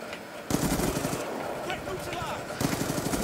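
MSMC submachine gun in Black Ops 2 fires in two fast automatic bursts, a long rattling stream followed by a shorter one after a pause, with other game noise in between.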